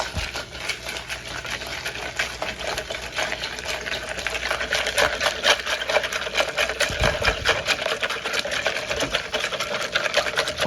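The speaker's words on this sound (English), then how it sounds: "now you take your whisk and you just give that a good mix" A whisk beats a liquid slap juice drink in a container, fast rhythmic clicking and swishing that stays close and steady throughout.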